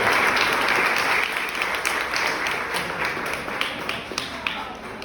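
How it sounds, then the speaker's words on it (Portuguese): An audience at a church talk breaks into steady, dense applause that fills the room and tapers slightly over several seconds. "Vamos dar um aplauso para os irmãos aqui."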